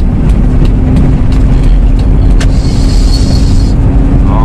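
A 2002 Toyota Kijang LGX with a 2.0 EFI engine roars loudly and steadily as it accelerates to overtake, heard from inside the car with a constant low drone and a brief higher whine partway through.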